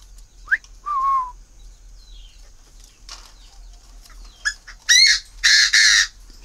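A tame Chinese francolin (đa đa partridge) calls in winter, giving a few short squawky whistles, then loud harsh bursts close by at the end.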